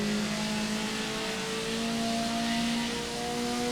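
A car engine revs steadily in a driving video game, a continuous mid-pitched drone with sustained engine tones that holds at a constant level throughout, with no talking.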